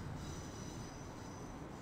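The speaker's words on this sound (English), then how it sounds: "Are those the brakes?" A train in the SimRail railway simulator game gives off a steady high-pitched brake and wheel squeal over a loud rolling rumble, continuous and close throughout.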